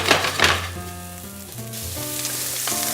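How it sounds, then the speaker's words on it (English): Zucchini and onions sizzle in a greased pan, a steady, loud, close frying hiss with a few stirring scrapes at the start and no talking. "First, you're going to grease up your pan. Add your zucchini and onions at the same time."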